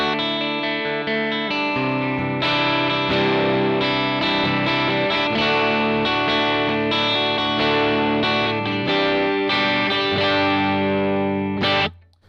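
An electric guitar with both humbuckers on, played through a Marshall JTM 1 50th Anniversary head, rings out strummed chords with slight crunch and room echo for about twelve seconds before stopping abruptly.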